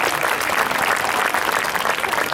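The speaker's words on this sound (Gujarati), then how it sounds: "પ્લીઝ તાળીઓના ગડગડાટથી વધાવી લો એમને." An audience at a school annual function applauds the teachers with loud, dense, sustained clapping that fills the whole stretch without pause.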